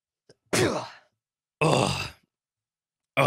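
A single loud, close sneeze-like burst from a person, followed by a second long explosive burst a second later, with silence between and the start of another burst at the end.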